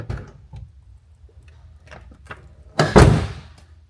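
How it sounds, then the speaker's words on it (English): A car door opens with a soft click and latch release, followed by a louder thunk as it swings out. "when I opened the door, it actually hit a little bit"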